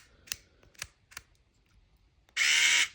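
A portable electric screwdriver from Costco is preceded by three sharp button clicks, then its motor kicks on with a loud close whir for the last half second.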